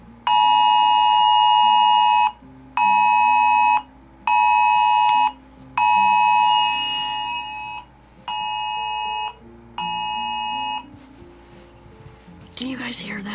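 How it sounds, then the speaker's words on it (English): Emergency alert tones from a phone and a watch, six loud, even bursts of high steady beeping with short gaps between them, heard up close while faint voices murmur underneath. "You guys just heard that beep, beep. That was my phone."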